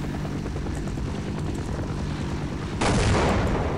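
A helicopter in the video game Half-Life makes a steady, loud rotor drone throughout, growing stronger and harsher near the end with what may be gunfire mixed in.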